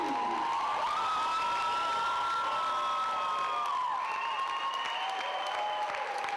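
Crowd cheering and applause during a standing ovation at a wrestling show, a steady roar with whoops and shouting voices blended into continuous clapping throughout.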